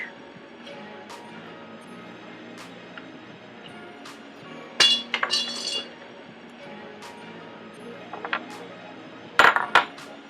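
Metal pneumatic cylinder fittings from a WCP PTO kit are handled, giving bright clinks and small rattling clatters in a few short bursts against a quiet room tone.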